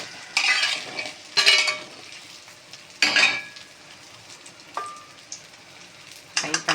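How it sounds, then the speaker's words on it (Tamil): Okra sizzles in hot oil in a pan while it is stirred, with bursts of scraping and clinking from the utensil over a soft, steady frying hiss. "ஃப்ரை பண்ணிக்கலாம் எண்ணெயில்."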